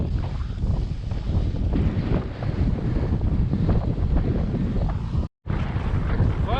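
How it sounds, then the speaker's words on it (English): Heavy wind buffeting a microphone while cycling into a strong headwind on a road near Trenton, Florida: a loud, continuous low roar with a brief dropout near the end. "we're rolling into a full-on block headwind"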